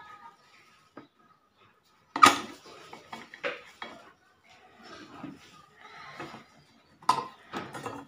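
Metal clinks and scrapes from the back plate cover being worked open on a V-Guard 1 hp motor with a failed bearing. The sounds come as sparse, close taps and knocks with quiet gaps between them, alongside some speech.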